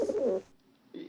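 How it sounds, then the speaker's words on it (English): A pigeon gives a short, low coo, then a brief pause, then the start of another soft coo, close and clear with no talk over it. "You're a pigeon."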